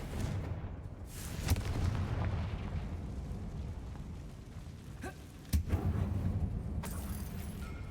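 A Confringo fire spell explodes in the video game Hogwarts Legacy inside an abandoned mine, a loud rumbling blast with sharp bursts around one and a half and five and a half seconds over a constant low roar.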